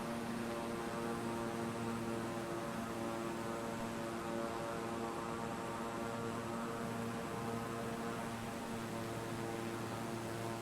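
Steady propeller-aircraft engine drone from Microsoft Flight Simulator 2020 over Los Angeles, a constant low hum with strong tonal bands and throttle slightly reduced, holding at even loudness throughout with no talk.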